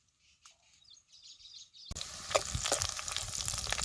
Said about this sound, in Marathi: बारीक चिरलेला कांदा घालून घ्यायचा कांदा बी चांगला भाजून घ्यायचा